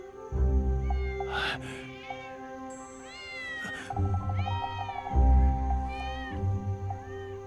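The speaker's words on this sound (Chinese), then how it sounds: "是有一只小野猫想偷吃咱家小鸭子" A small wild cat meows repeatedly, several clear, rising-and-falling cries close by, with short pauses between them and soft background noise underneath.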